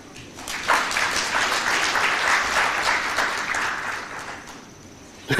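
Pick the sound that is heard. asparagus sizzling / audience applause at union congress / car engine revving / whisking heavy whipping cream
audience applause at union congress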